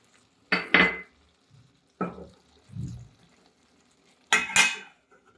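Metal cooking pot of vegetable curry shifted onto a low gas burner: a few separate clanks and scrapes of metal on the stove grate, close and fairly loud, spaced across a quiet kitchen with no talk.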